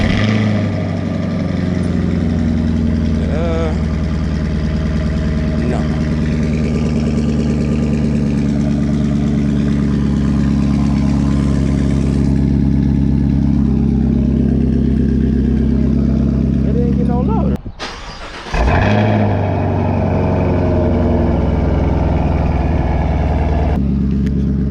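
A 2021 Chevrolet Camaro SS V8 with its NPP fuse pulled idles with a steady, deep rumble. There is a brief rev near the end, then a sharp dropout and a bump, and someone talks over the engine.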